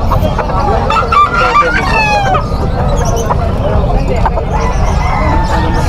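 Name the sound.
chickens and young roosters at a pet market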